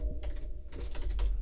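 Typing on a computer keyboard at a desk: a brief burst of soft, close key clicks over a steady low hum, with no voice present.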